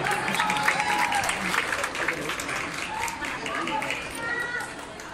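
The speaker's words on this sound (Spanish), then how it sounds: "Un aplauso para ella nuevamente" Audience applause at a dance school's closing and graduation event, steady clapping from a crowd with a few voices mixed in, sustained at moderate level throughout.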